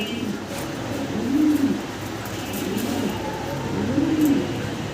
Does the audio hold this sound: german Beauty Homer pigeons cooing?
yes